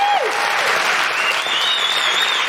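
Dense, steady audience applause fills a live talk event from start to finish, loud and close, with a few faint whistle-like tones riding on top.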